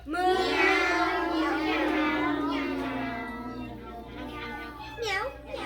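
Several children's voices in a classroom imitate animal calls at once, a jumble of drawn-out meows and lowing moos overlapping loudly, with a final rising meow.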